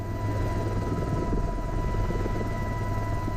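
AH-1Z Viper attack helicopter flying low over marshland, a steady close rotor drone with low throbbing and a constant engine whine, loud and unbroken throughout.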